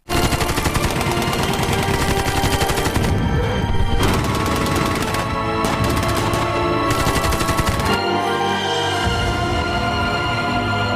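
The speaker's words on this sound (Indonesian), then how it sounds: "Jintai malah memilih untuk bangun dan menembakkan senjata mesin ke arah pasukan Korea Utara agar adiknya bisa mundur dengan selamat." Loud, sustained machine gun fire aimed at North Korean troops in a Korean War film scene, rapid continuous bursts rattling without pause, with heavy booming layered in toward the end.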